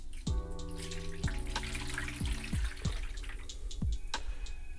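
Darkroom bleach poured into a tray for print toning with a Fotospeed ST10 kit, heard as a steady close liquid pour with several bright drip-like plinks and splashes over about five seconds, no talking.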